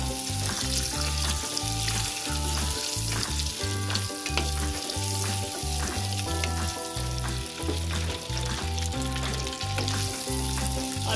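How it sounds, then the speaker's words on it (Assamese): Boiled eggs fry in hot oil in a kadai, giving a steady, loud, continuous sizzle and crackle throughout, close up, with occasional faint stirring noises and no talking. "প্ৰথমতে মই ডিমখিনি ফ্ৰাই কৰি ল'ম"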